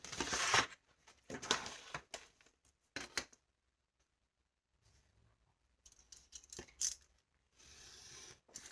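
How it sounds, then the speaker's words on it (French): Scissors snip paper around a hand-drawn flip book page, making a series of close, quiet cuts and crisp rustles in uneven bursts, separated by a silent stretch and followed by light handling noise. "Je vais couper un peu autour."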